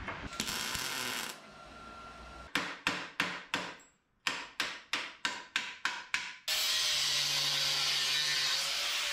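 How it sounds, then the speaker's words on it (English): A scrap metal patch is hammered into place on the floor pan of a 1961 Parkwood wagon, two runs of about six sharp, evenly spaced metallic blows, close and alone between stretches of noise. "Kind of hammer it into place."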